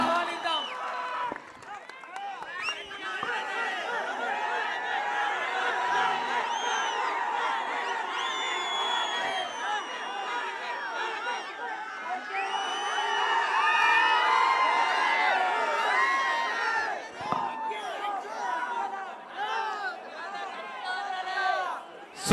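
A large crowd at an outdoor political rally in Rajahmundry cheers, whoops and claps continuously, a dense roar of many voices and scattered shouts that swells midway and carries on for the whole stretch.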